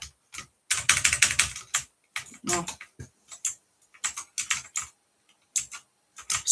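Close, crisp keystrokes on a new computer keyboard arrive in quick bursts separated by short pauses, with one brief spoken word in between.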